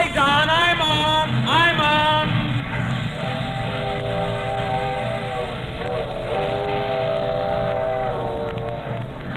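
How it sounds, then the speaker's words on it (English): A train pulls out of a station with a wavering whistle blast near the start, then a long sustained horn-like tone over low rumbling, moderately loud and continuous. "The train's moving."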